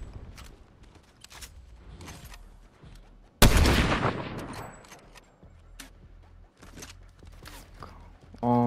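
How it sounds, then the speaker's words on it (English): Fortnite gunfire striking the player, scattered sharp shots and rapid cracks with one loud burst near the middle, then further shots close by and a sudden blast at the end. "I'm getting shot from behind now."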